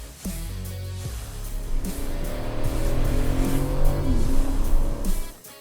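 A 600 horsepower Nissan GT-R Nismo roars on a race track, its engine building steadily in pitch as it accelerates through the gears, loud and close with a hint of tire squeal.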